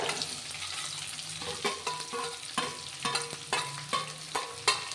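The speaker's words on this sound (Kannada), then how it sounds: "ಇದನ್ನ ಇವಾಗ ನೀಟಾಗಿ ಫ್ರೈ ಮಾಡ್ಕೊಳ್ಳೋಣ" Onions and red chillies fry in a pan for a mixed greens dish. A steady sizzle runs throughout, with repeated scraping and knocking strokes from stirring and no voices.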